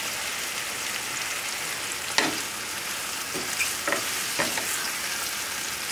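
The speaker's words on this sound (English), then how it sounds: "And we'll saute this." Food sautéing in a pan over a high flame for a whole wheat pasta with smoked salmon, a steady close sizzle and fry with a few sharper crackles and stirring scrapes, no talking.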